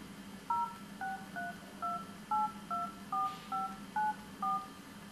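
Dual-tone telephone dialing beeps from a Nokia N9 running Android, about a dozen short evenly spaced keypad tones pressed one after another, clear and close against a faint background hiss.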